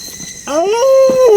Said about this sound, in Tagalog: Aso yan bro. Katahol ng tahol.